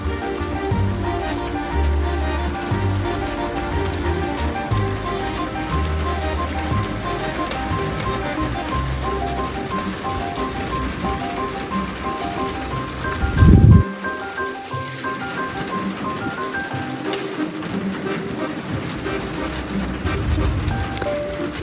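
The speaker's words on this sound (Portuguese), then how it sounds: "Começou a chover aqui agora em Canoas. Acredito eu que vocês vão escutar aqui durante a aula barulhinho de chuva." Rain falling outside in Canoas during a home crochet lesson, a steady hiss of drops under background music throughout, with a brief louder knock midway.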